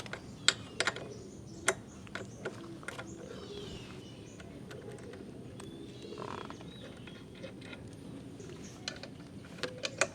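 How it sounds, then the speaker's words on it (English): Bolts being removed from the rear brake caliper of a Honda CBR 650 with a 12 mm tool, giving scattered light metallic clicks and ratcheting ticks, close and quiet against a low hum. "And then we can remove these 2 bolts. This is using size 12."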